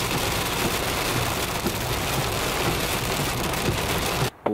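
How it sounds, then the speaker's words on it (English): Heavy rain pours steadily on surfaces as a dense, loud hiss, unbroken until it cuts out abruptly just before the end. "raining quite a bit"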